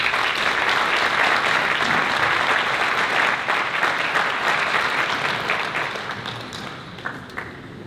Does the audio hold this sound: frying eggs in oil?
no